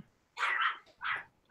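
A dog barks indoors in two short, loud bursts about half a second apart, close by, with no talk over it.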